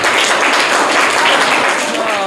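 Loud, dense applause from a classroom of government school students, steady and close throughout.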